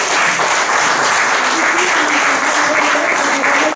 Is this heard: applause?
yes